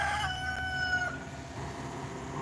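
In a garden coop holding chickens and ducks, a rooster crows once, clear and moderately near, with faint clucking and outdoor background.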